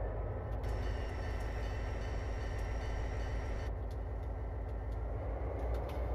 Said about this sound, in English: And you'll see the locomotive now starts to move here.